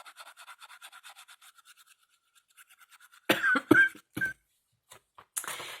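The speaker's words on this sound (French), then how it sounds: "Je vais pas arrêter de tousser." A person coughs in a few harsh, close bursts after several seconds of soft rhythmic scraping strokes, followed by a final short cough.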